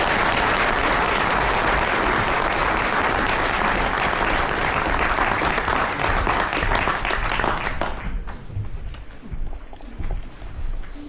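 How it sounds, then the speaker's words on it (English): Loud, sustained applause from a large audience fills the room, then tapers off into scattered clapping and murmuring. "Can you give them a round of applause?"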